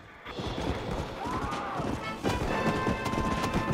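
Hooves of a horse galloping in the Western video game Red Dead Redemption, a steady clip-clop rhythm running throughout under busy game sounds, with occasional voices.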